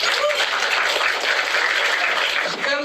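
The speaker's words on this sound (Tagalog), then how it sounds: "Wala bang palakpak niyo pa na Carla?" An audience claps steadily through the whole stretch, a dense and loud wash of applause at a birthday celebration, with no talking over it.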